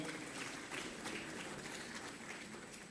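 An audience applauds in a hall during the inauguration function of the 72nd AIOC 2014 ophthalmology conference, a steady, dense wash of clapping held at an even level throughout with no voices over it.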